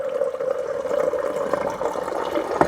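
Water flowing through a newly installed LG LT1000P refrigerator water filter, a steady close rushing stream with a faint tonal whine running underneath throughout.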